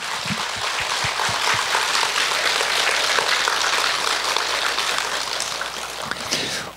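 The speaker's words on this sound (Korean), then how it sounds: "이곳에 오신 나를 위해서, 스스로를 위해서 뜨거운 박수 한번 부탁드립니다" Audience in a Buddhist meditation lecture hall applauding, a dense, steady wash of many hands clapping at close range that holds for several seconds before tapering at the end, with no talk over it.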